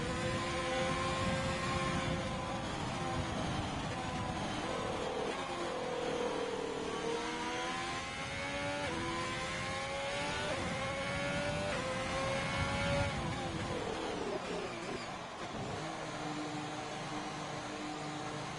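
Race car engine in a racing video game on a hot lap at the Italian GP, a steady loud engine drone with harmonics rising and falling through gear changes, continuous throughout with no talk.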